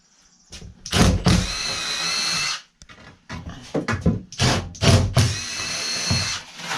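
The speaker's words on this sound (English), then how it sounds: "now I'm going to drill" A power drill bores 3/8 inch holes into a shuttle bus ceiling during a conversion build, several loud close whirring bursts separated by brief pauses as the bit starts and stops.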